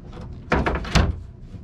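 A large storage drawer beneath the bed in a Prevost bus conversion slides open with a couple of hollow rumbling thumps, close and loud, with no talking over it.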